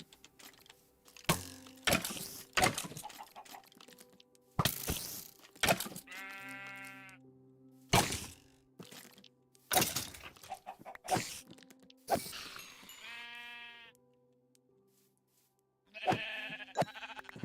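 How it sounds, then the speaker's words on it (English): Sheep bleating in a Minecraft-style video game, several wavering bleats spread across the stretch alongside footsteps and clucking-like game sounds, with no talking. "Sheep."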